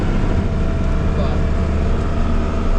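A John Deere 4640 tractor engine runs at reduced RPM while working a rented farm, giving a loud, steady, close diesel drone that fills the whole stretch without a break.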